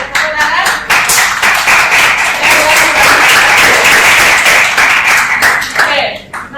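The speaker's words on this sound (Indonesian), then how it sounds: "Oke, tepuk tangan." Students in a classroom clapping together, loud, close and dense hand claps that run steadily for several seconds before tapering off, with a voice briefly audible.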